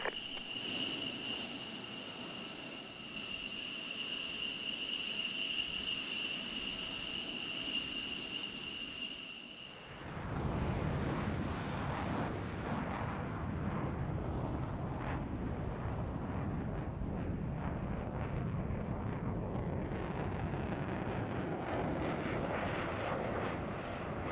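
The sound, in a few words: aircraft taking off with throttle in video game ARMA 3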